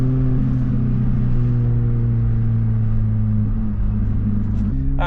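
A Toyota Matrix XRS with an Exedy clutch drives along, its engine holding a steady low hum and rumble throughout, with a brief shift in tone near the end.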